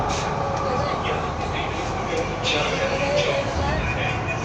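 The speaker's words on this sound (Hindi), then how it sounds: "ये है मेट्रो।" Inside a moving Delhi metro train, a steady rumbling rail drone with faint squeals and rattles, and someone speaking over it.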